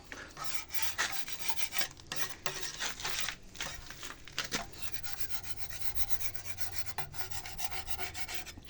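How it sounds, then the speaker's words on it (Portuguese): A spatula scraping excess material off the surface of a giant fruit-tree pot, repeated rough rasping strokes in an uneven rhythm, fairly close but quiet, with no talking over it. "Vem com a espátula, raspa, tira o excesso."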